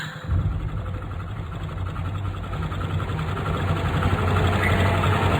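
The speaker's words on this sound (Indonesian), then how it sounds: "Dan akhirnya motorku kembali menyala." A motorcycle engine catches and settles into a steady idle, its low rhythmic putter holding close and constant after a brief start, with no voices.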